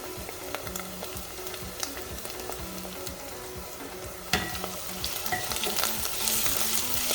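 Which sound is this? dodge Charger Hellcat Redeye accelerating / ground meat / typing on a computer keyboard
ground meat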